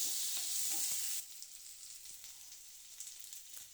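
Chopped onion and tomato sizzling and frying in a pan for chutney, a loud hiss at first that drops to a quieter crackle with occasional stirring clinks.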